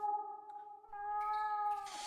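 Cat wailing from behind a wall in the video game The Last Door, a drawn-out, mournful tonal meow that rises in pitch partway through, then ends with a short noisy scrape, clear and alone.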